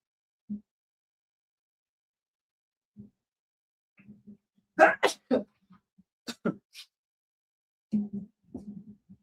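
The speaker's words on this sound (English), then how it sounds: "Excuse me, I just sneezed there." A sharp sneeze bursts out in the middle of scattered soft sounds and brief low voice fragments, with quiet gaps around it.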